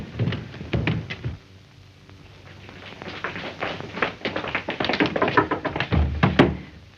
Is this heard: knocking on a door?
yes